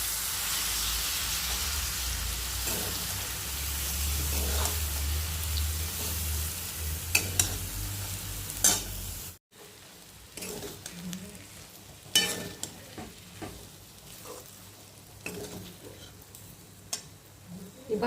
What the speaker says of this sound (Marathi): ही भाजी 5 मिनिटापर्यंत आपण परतून घेणार आहोत